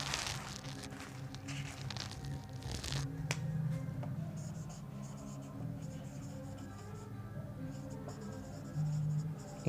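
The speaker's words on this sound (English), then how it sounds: "Let me write it here." Marker or chalk writing on a classroom board, soft scratchy strokes running steadily for several seconds, close and moderately quiet with a faint room hum underneath and no talking.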